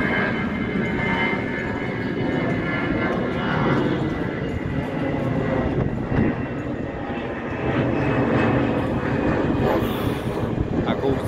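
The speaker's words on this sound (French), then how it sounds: "Ah, un avion." A fixed-wing airplane flies overhead, its broad engine roar loud and steady throughout, with voices faintly beneath it.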